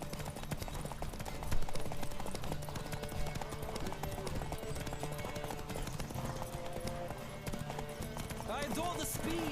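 A horse gallops in The Witcher 3, with rapid clip-clop hoofbeats running continuously at a fast, even pace, fairly quiet under steady speech and game background sound.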